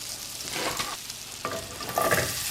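Butter and olive oil sizzle in a hot pan, a steady close crackle with a few louder spits and stirring scrapes, no voices.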